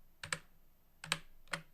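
A computer keyboard clicks in three quick, soft clusters of keystrokes, close and quiet, with no talk.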